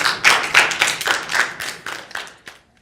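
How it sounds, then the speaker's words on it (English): A small classroom group of students claps for classmates in a third-grade math lesson, with about ten distinct, uneven hand claps close by that taper off and stop near the end. "let's give them a round of applause"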